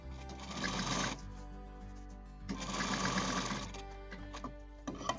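A sewing machine stitching fabric for a grocery bag with handles, in two long bursts of rapid mechanical whirring separated by a pause, then a brief final run, close and alone.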